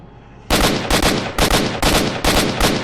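Bursts of gunfire from the game S.T.A.L.K.E.R., about six loud rapid volleys in quick succession after a short quiet start, close and harsh.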